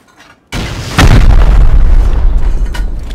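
Explosive shot during a raid in the Rust survival game: after a faint lead-in, a loud boom hits, followed by a second heavier blast that rumbles on with a sustained low roar, close and with no talk over it.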